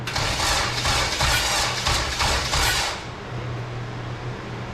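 A Honda K20/K24 engine swapped into an EG hatch cranks with a rhythmic, pulsing starter churn for about three seconds, then gives way to a lower, steadier running drone.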